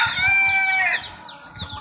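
A rooster crows once, loud and near, among chickens clucking softly around it in a village setting.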